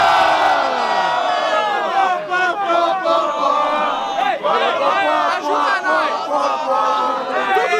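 Dense crowd at a student rap battle in Brazil yells and cheers in a sustained, loud wall of shouting voices with chanting rises, close and enveloping throughout.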